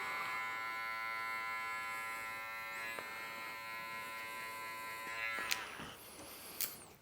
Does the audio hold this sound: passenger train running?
no